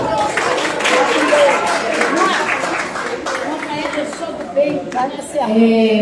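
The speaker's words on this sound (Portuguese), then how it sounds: "Uma salva de palmas para vocês" Audience applause at a women's rights gathering, a steady wash of clapping from a crowd that stays fairly loud through the stretch, with murmuring voices and chatter mixed in.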